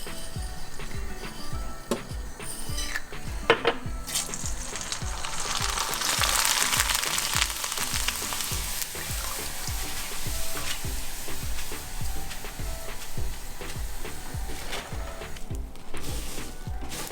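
Rice (mamra) frying in a pan while being stirred steadily, with continuous close sizzling and rhythmic scraping strokes throughout, no talk.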